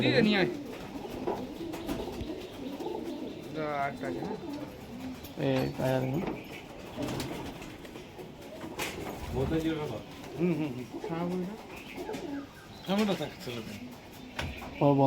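Pigeons kept as a hobby in a loft at a home in Nabadwip coo repeatedly in rhythmic throaty bursts, several birds close by, while a person talks intermittently over them.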